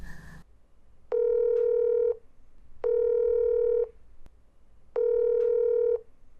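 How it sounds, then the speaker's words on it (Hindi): A telephone call being placed, a short dial burst followed by three evenly spaced ringback tones, each about a second long, loud and clear against a quiet background. "मैं उन्हें कॉल करूं तो वो फ़ोन उठाएं।"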